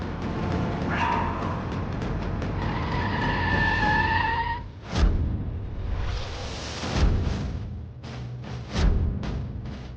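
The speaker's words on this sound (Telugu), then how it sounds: "బ్రేక్ పడట్లేదు గంగా." Car tires screech in a long skid as brakes fail, followed by a few sharp thuds and further short squeals and bumps, loud and close with no talking.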